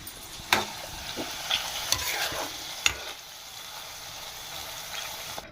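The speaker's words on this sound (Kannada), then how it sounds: "ಉಳ್ಳಾಗಡ್ಡಿ ಫ್ರೈ ಮಾಡತ್ತಿ ಬ್ರೌನ್ ಕಲರ್ ಬರೋವರೆಗೂನು ಫ್ರೈ ಮಾಡ್ಕೊಂಡ್ಬಿಡೋಣ್ರಿ" Onions fry in oil until brown, with a steady close sizzle broken by several sharp scrapes and clacks of a spoon stirring the pan at irregular intervals; no voices.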